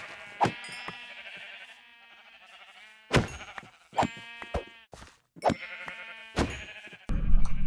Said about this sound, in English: there are a lot of sheep left over from this